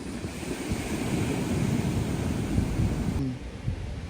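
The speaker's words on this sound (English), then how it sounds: "I'm going to show y'all the beach view." Surf rolling onto a beach in Salvador, Brazil comes as a steady, broad wash of breaking waves, heavily mixed with wind buffeting the microphone. It stays continuous throughout and dips briefly near the end.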